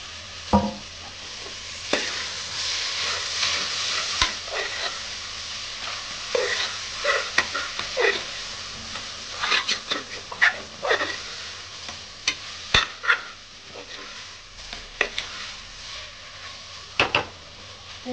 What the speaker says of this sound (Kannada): ಟೊಮೆಟೊ ಸ್ವಲ್ಪ ಫ್ರೈ ಆಗಬೇಕು.